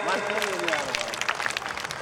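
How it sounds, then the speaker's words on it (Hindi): An audience claps at a Beti Bachao Beti Padhao event as girls receive prize money. The clapping is a steady, fairly loud crackle that runs through the whole moment, with a voice carrying over it. "जोरदार ताली बजा दीजिए।"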